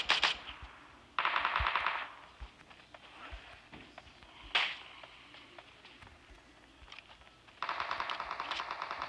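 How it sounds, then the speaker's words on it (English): Gunfire in the mobile video game PUBG Mobile during a zombie-style mode, rapid automatic bursts and scattered single shots, loud and close, with quieter game noise between volleys and no clear speech. "Gunshots, but."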